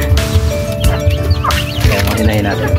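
Hens and a rooster cluck and call repeatedly in a backyard flock, loud and close, with a person talking over the birds.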